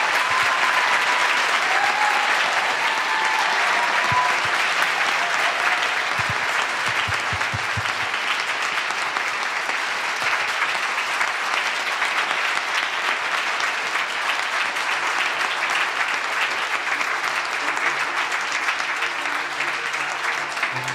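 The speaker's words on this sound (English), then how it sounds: "Now you can go ahead and give them a round of applause," A large audience at a congressional district candidate forum claps in sustained, even applause, loud and unbroken for about twenty seconds.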